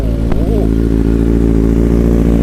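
A Kawasaki or Honda sportbike with about 19,000 km on it revs loudly and steadily up close, its engine roar holding throughout with a brief rising blip near the start.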